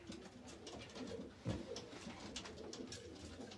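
Mordovian high-flying pigeons coo softly in a loft, low throaty calls repeating under faint background rustling and shuffling.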